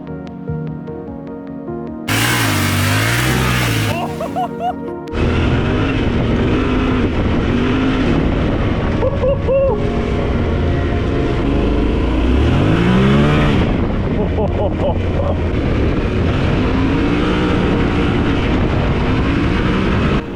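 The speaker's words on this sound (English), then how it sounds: "the bike was a pleasure to ride as we headed out to the gravel roads" A Yamaha Ténéré 700 motorcycle rides along farm and gravel roads, the engine droning loud and continuous with rising and falling pitch as it shifts gears, and wind rushing past throughout.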